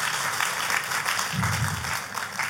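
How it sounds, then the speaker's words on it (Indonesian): Church congregation applauding at an Easter service, a dense burst of clapping from many hands, close and lively, steady across the whole moment with no voices over it. "kalau mau tepuk tangan yang paling meriah"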